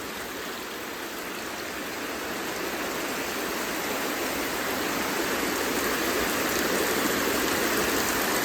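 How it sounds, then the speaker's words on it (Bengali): Heavy rain pours down outdoors in a dense, continuous hiss that stays loud and steady throughout, slowly swelling a little in intensity, with no voices. "এই দেখো বন্ধুরা, খুব জোরে বৃষ্টি নেমেছে।"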